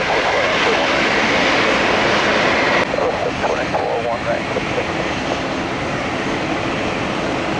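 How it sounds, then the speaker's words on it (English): Boeing 737 Max jet airliner at Tampa airport, a loud sustained engine roar filling the whole stretch with a slight shift midway, heard close on the runway side. "That's a Boeing Max."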